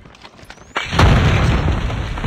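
A C4 charge detonates in a Call of Duty Rapid Fire match, a sudden loud boom that swells into a long, rumbling roar and rolling debris lasting well over a second, with no voices.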